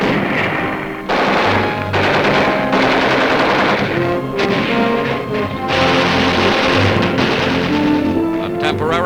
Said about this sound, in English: Medical corpsmen carrying wounded scatter as Japanese snipers open fire.